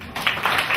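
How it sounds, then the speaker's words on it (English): A short burst of audience clapping at a public dialogue on conservation, rising quickly and continuing steadily for under a second. "give him another big clap"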